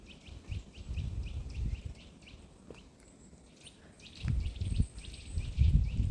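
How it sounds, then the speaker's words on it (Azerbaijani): Small birds chirp and sing softly in the distance, with repeated short high notes over low outdoor rumble and a few rustling bursts. "Kuşların səsi gəlir"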